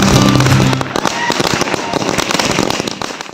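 Firecrackers burst at night in Namrup, Assam, during a public celebration, a dense volley of sharp, loud cracks and pops crowding one another over a continuous crackling roar.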